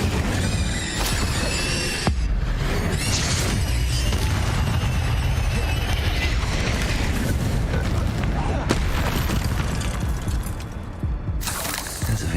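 Fire spell cast during combat in Hogwarts Legacy, a dense roaring blast with booming bursts and crackling impacts that fill the scene continuously, loud and close, with sharp flares near the start and end.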